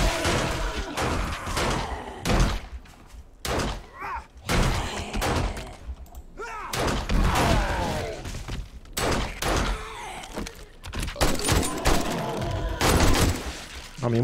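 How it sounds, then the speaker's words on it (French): Gunfire in the zombie survival game 7 Days to Die comes as repeated sharp bursts and thuds through the clip, close and loud, with voices talking at times. "moi je tire parce que j'ai pas le temps d'arriver sur eux, tu les tues avant"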